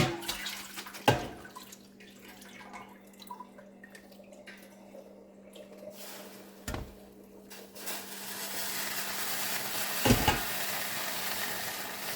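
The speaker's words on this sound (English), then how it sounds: "A little bit at a time, and we're going to stir it around in there." Whole wheat penne being stirred into a feta, tomato and roasted red pepper sauce in a pan: soft, wet sloshing and quiet scraping, with a few sharper knocks against the pan, low and steady throughout.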